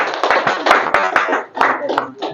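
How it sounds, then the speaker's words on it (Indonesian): Clapping hands at a legal talk about free legal consultation in Palembang, with sharp irregular claps mixed under ongoing speech rather than a full, even applause. "Tepuk tangan dulu."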